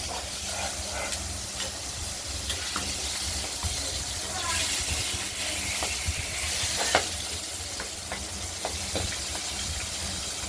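Small fish (bacha) frying in a covered then uncovered pan for a spicy potato curry, giving a steady hissing sizzle scattered with sharp pops and crackles throughout, close and fairly loud.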